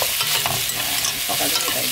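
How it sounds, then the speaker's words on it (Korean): Cabbage and other vegetables stir-fried in a pan, heard as a loud, continuous sizzle with quick rustling and scraping of the utensil, close up and steady throughout. "양배추는 야채를 먼저 슬슬 볶아주세요"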